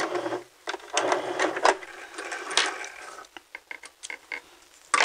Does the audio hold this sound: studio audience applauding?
no